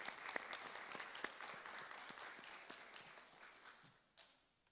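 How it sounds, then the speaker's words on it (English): Faint applause from an audience for Albany State University Honors Program honorees, a brief burst of clapping that fades out toward the end. "give their parents, their friends, their loved ones, the faculty, staff members who assisted you a round of applause"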